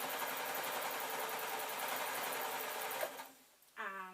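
A modern sewing machine runs a loose zigzag stitch through stretch fabric, a steady close whirring hum for about three seconds that stops abruptly, followed by a brief higher mechanical whine.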